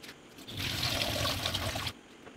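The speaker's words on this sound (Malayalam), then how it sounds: "ഒരു രണ്ട് മൂന്ന് വെള്ളത്തിൽ ഇതൊന്ന് കഴുകണം" Mexican sunflower leaves being washed in water, a short burst of splashing and swishing water lasting about a second and a half, quiet and close with no talk.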